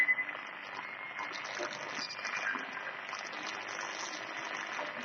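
Faint, steady hissing static from a Sangean ATS-909X shortwave radio, crackly and fluttering, with a muffled station barely showing through the noise.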